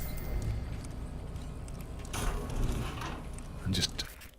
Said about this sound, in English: I'm going to have to unlock this door.